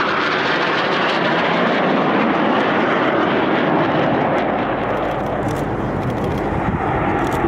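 Frecce Tricolori jet aircraft roar past loudly at the Airpower 2011 airshow, a dense broadband rush that stays steady throughout with no voices.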